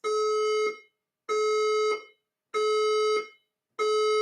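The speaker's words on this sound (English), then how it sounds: "The fire alarm system is operated." Fire alarm system sounding a loud, steady electronic tone in repeating pulses, each about three-quarters of a second long with short silent gaps between, alone with no talking.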